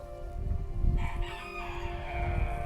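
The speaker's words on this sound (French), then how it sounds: "Et il y a des poules, des coqs." A rooster crows loudly and close on a farm at the Pairi Daiza animal park, with hens clucking around it and a low background murmur throughout.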